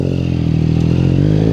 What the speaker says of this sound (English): just watch my hand as I do this wheelie